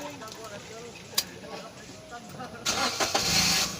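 A used car's engine cranks over and catches, starting with a sudden loud roar late in the clip after a quieter stretch with a sharp click, then settling toward a rough idle close by.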